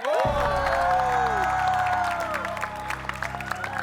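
Applause and cheering from a studio audience on an Indonesian comedy show as a costumed superhero character is introduced, loud and sustained with a strong musical sting at the start, fading slightly toward the end.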